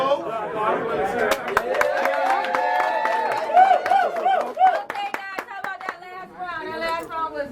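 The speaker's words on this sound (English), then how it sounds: "Round of applause for y'all" Crowd clapping at a rap battle event, mixed with loud chatter, shouts and voices close by over the whole stretch.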